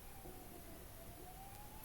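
An ambulance siren passes outside, heard as a faint, distant, slowly wavering tone, with no one speaking.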